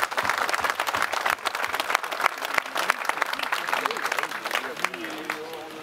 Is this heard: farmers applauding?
yes